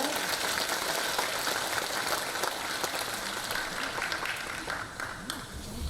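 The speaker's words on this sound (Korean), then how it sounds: "다시 한번 열렬한 박수로 부탁드리겠습니다." Sustained applause from a seated audience at a mayoral inauguration ceremony in Jecheon, dense and steady clapping across the whole stretch, fading slightly toward the end.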